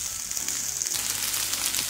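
Steady bright sizzling of capsicum frying in hot oil, a continuous crackling hiss with no voices.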